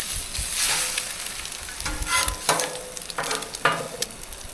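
Breakfast food, including moose sausages and bacon, fries on a Blackstone griddle at a cabin in Newfoundland, giving a close, steady sizzle broken by several scraping spatula strokes as pieces are turned.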